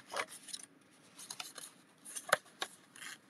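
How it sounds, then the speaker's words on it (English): Adhesive tape being pulled and pressed onto a basket during a crafting session: faint, close, raspy rips and rubbing strokes in irregular short bursts across a few seconds. "I'm going to put some tape here"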